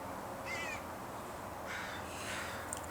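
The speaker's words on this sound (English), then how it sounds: "Crows." A couple of faint crows caw briefly in the distance over a steady hiss of outdoor background noise.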